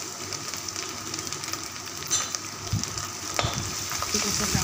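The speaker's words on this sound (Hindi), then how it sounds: "इसके बाद हम कड़ी पत्ता इसमें डालेंगे।" Curry leaves drop into hot oil for dahi kadhi and fry with a soft, steady sizzle. A few sharper crackling spurts rise toward the end, fairly quiet overall.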